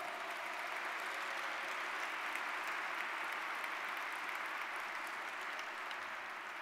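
An audience at a public health association annual meeting applauds for affiliate presidents and guests, a steady, even wash of clapping heard from a distance throughout.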